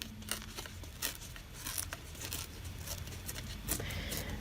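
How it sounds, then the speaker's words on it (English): Scissors cut through paper journal cards in quick, uneven snips and rustles, close and fairly quiet, with soft crinkling between the cuts and no talking. "Those scissors, they're very temperamental."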